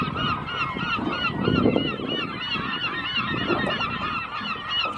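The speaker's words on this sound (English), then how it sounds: "So there's birds there." A dense flock of geese honk continuously near the shore, overlapping calls forming a loud, steady chorus with no talk.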